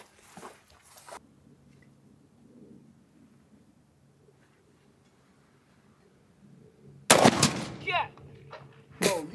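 Gunfire from a heavy rifle rings out outdoors: a loud blast at the start, then a quiet stretch of low ambience, then two more sharp, booming shots near the end.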